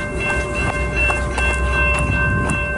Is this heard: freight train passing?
yes